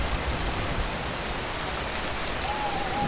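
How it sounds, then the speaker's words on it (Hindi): Steady, hissing downpour of heavy rain at night outside an old haunted mansion, a constant even wash of sound at moderate level with no voices. "बाहर तेज बारिश हो रही थी"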